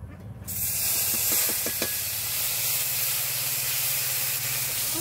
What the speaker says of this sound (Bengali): যে মশলাটা বেটে রেখেছিলাম, যে হাতায় তুলে রেখেছি, এটাও দিয়ে দেবো এখন